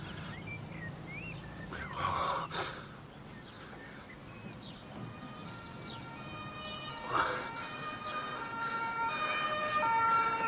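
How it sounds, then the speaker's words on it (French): An ambulance siren wails as the vehicle arrives, fairly faint and distant at first and growing toward the end, mixed with road traffic and occasional birdsong. "Cette ambulance, elle arrive."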